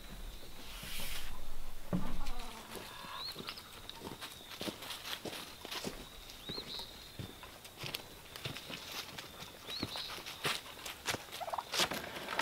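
Poultry calling and clucking with scattered scratching and footstep-like taps, a faint bird call recurring over a quiet outdoor background.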